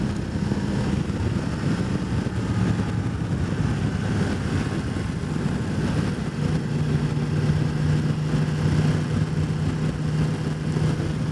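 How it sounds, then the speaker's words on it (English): A 2018 Yamaha MT10 motorcycle engine fitted with a Yoshimura slip-on exhaust runs at a steady, fairly subdued idle, a continuous low rumble with a faint droning tone, close by and alone. "I'm expecting this motor to be louder, but even with this Yoshimura slip-on, it is quite tame and quiet"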